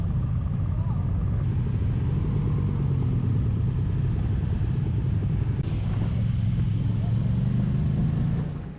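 A kid's small dirt bike engine drones steadily and loudly alongside a larger motorcycle rumble for the full length, with a slight shift in pitch midway and no break in the noise.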